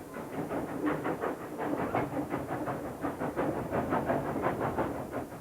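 A train running on rails, with a steady rhythmic clatter of wheels over track joints repeating evenly throughout, moderately loud and heard alone.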